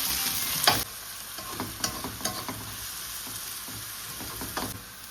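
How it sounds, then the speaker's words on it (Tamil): Chopped large onions sizzle and fry steadily in a pan while a spoon scrapes and stirs them in several brief bursts, close and fairly quiet, with no talking. "பெரிய வெங்காயம் எடுத்து கட் பண்ணி வச்சுருக்கேன் அதை சேர்ப்போம் பிரட்டி விடுவோம் வதங்கட்டும்"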